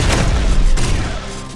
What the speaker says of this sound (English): Gunfire at the integrator.